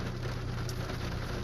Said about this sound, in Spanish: Entonces la verdad que está muy bien así la llovizna.